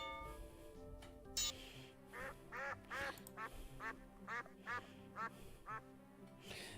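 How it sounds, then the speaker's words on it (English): Cartoon duck quacks from the Simon the Sorcerer adventure game repeat in a quick steady series of about a dozen short quacks over a faint sustained musical background. "Again, those ducks,"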